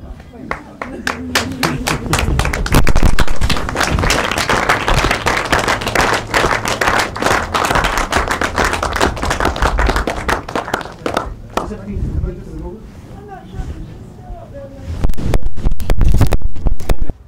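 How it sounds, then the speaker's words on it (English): An audience gives a long round of dense, close applause that thins out near the end before swelling again, with voices mixed in. "I think we should celebrate this round of applause for ourselves"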